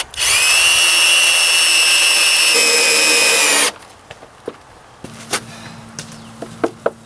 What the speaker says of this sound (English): Now I'm just tacking these up now with these screws.